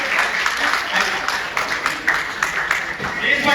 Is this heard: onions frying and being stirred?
no